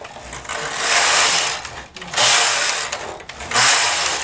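A knitting machine runs three tight-tension rows, the carriage sweeping across in three loud, whirring passes with brief pauses between, alone and without talk.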